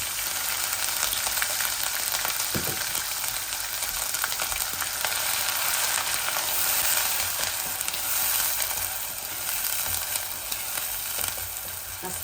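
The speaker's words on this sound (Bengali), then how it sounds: "আমি বাটা পেঁয়াজ দিচ্ছি।" Onion paste frying in a hot pan sizzles steadily and loudly, a dense continuous crackle with a few faint stirring knocks, no one talking.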